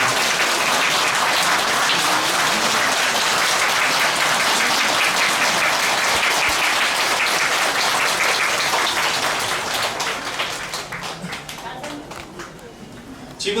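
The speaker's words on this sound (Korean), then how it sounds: "잠시 일어서서 박수 한번" Crowd at Gilsangsa temple during Buddha's Birthday celebrations claps together for an arriving guest, a long dense roll of applause that holds steady before thinning and fading toward the end.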